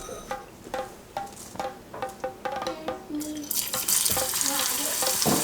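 Shallots frying in coconut oil in a small pan, starting with a series of scattered pops and clinks before a loud, steady sizzle takes over and fills the rest of the clip, close and continuous.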